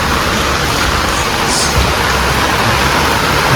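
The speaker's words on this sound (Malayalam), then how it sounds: "ഭയങ്കര മഴയാണ്" Loud, dense downpour of heavy rain, a constant roaring hiss with no pauses, very close.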